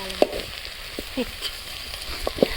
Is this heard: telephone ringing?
no